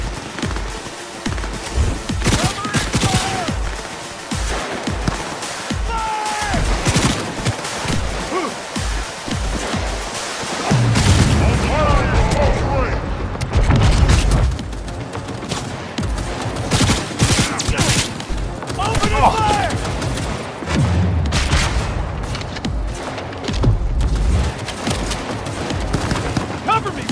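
Sustained gunfire in the game Cyberpunk 2077 during a firefight, loud dense bursts and rattling shots running throughout, with shouted voices mixed in among the shooting.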